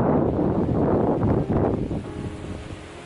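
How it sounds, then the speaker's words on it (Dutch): Strong, gusting storm wind buffets a microphone outdoors in the Ardennes on a stormy November day, a loud, continuous roar that rises and falls for a few seconds with no voices. "Het waait hier hard."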